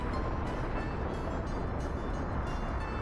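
A train rolls along a track in the city-building video game Workers & Resources: Soviet Republic, a continuous dense rumble with faint repeating hissy swells, steady and fairly quiet, with no voices.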